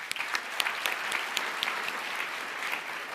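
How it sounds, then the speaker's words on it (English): Guests at a 2019 gala applaud with scattered, moderately distant claps forming a steady patter that lasts a few seconds. "Please let's give them a round of applause"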